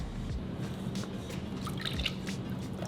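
Melted butter pours into a bowl in a home kitchen with soft, wet drips and splashes, faint and close, over a low background hum.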